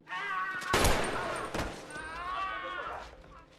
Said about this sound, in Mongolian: Өнөөх гарбууг Өмнөд Солонгосын тагнуул шүрч авангуудаа Хойд Солонгосын нэг тагнуулыг нь буудаж унагдаг